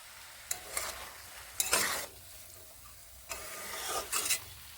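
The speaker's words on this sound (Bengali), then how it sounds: "এখন এইভাবে কষিয়েই এই রান্নাটিকে কমপ্লিট করতে হবে" Spinach and mung dal being sautéed in a pan, with a few separate bursts of spoon scraping and stirring over a soft background sizzle, fairly close and alone without talk.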